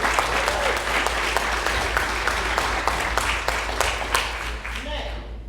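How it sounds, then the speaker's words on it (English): A town hall audience in Dillon, South Carolina claps steadily, with sharp individual claps standing out from a dense round of applause that tapers slightly at the end. "give Dr. Phil Wallace a round of applause"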